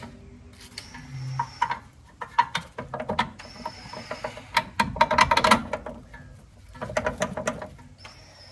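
Close-up ratchet and metal mechanism clicks as a rear shock bolt is tightened on a 2006 Nissan Altima, with bursts of rapid clicking and clattering at irregular intervals and brief pauses between.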